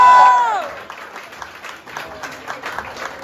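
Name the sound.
audience applauding the winner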